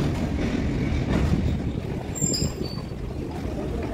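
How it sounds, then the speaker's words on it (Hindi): A long freight train loaded with coal wagons rumbles past behind one locomotive, a steady low rolling roar with rattling wagons and a brief high metallic squeal partway through. "सिर्फ एक ही मालगाड़ी मतलब एक ही इंजन सारी मालगाड़ियों को खींच रहा है।"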